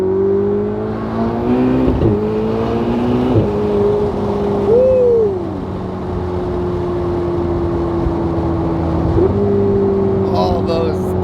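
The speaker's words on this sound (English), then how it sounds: "All those downshifts sound so good" Ferrari 488 twin-turbo engine dropping through a series of downshifts from inside the car, with sharp rev blips around two, three and a half and nine seconds over a steady hum, plus a brief voice near five seconds.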